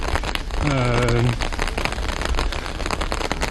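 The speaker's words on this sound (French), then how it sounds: "il n'y a plus grand monde sous la pluie" Steady rain patters densely on surfaces near Hue, Vietnam, close and loud, with a brief voice speaking over it near the start.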